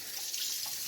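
Hot water runs steadily from a tap, a continuous hissing splash at moderate volume with no one speaking.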